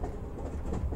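Train running in the video game Shadow Hearts: Covenant, a loud steady low rumble throughout with no speech over it.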